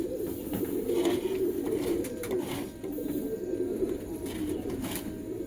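Pigeons coo in low, throaty bursts close by, with a few brief rustles and clicks in the background.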